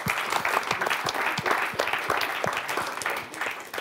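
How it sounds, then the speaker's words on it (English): Sustained audience applause at the Prix Strategis 2021 closing ceremony, dense steady clapping from a crowd honoring the consultant, fairly close and continuous throughout. "Big clap for him."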